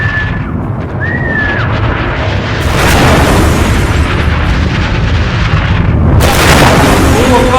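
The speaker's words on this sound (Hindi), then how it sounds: "इराक के होटल पर बम गिराया," A bomb blast hits a hotel in Iraq in news footage, producing a continuous loud roaring rumble that swells into heavier booming surges partway through, with a faint whistle-like tone early on.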